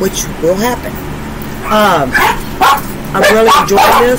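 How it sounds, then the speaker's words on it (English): Several dogs bark and yip in repeated short bursts close by indoors, overlapping someone speaking calmly. "Sorry for my dogs. They're barking at whatever."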